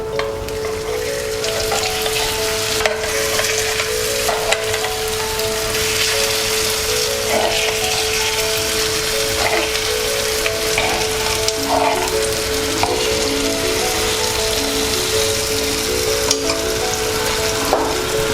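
Unniyappam frying in ghee, a steady close sizzle and bubbling that runs throughout, with occasional soft clicks and taps from utensils.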